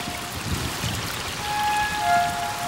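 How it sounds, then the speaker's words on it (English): Steady rain pours down at Copan as the rainy season sets in, a dense, even hiss of drops striking surfaces that swells slightly toward the end, with no voices. "the rainy season descends on Copan"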